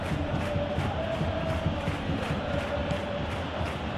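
Football stadium crowd at a Champions League quarter-final between Bayern Munich and Real Madrid, a dense steady roar of many voices with rhythmic chanting, continuous and distant-sounding.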